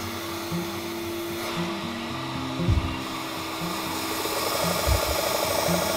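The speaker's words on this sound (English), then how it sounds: "So I've done my first initial grind." Axminster Trade belt edge sharpening system running and grinding, a steady whirring motor hum with a broad rushing hiss, close by, with a couple of brief heavier bumps as the blade meets the belt.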